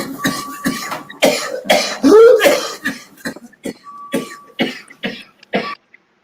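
A series of rough, sharp coughs in quick succession, loud and close, with a few throat-clearing bursts and brief pauses.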